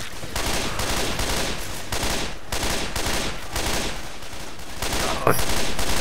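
Rapid bursts of gunfire in the zombie shooter Left 4 Dead 2, loud repeated volleys in a pulsing rhythm with a sharp crack near the end, no talking.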